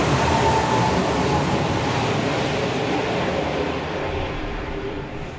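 The Firestorm drag racing car roars down the strip at a drag racing festival as a loud, broad, continuous roar that slowly fades as it pulls away into the distance.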